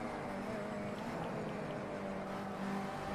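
A race car engine in the racing game Project Cars 2 holds a steady, high-revving drone with dense harmonics, run near 5,500 RPM below the 6,000 rev shift point, loud and continuous with no talk.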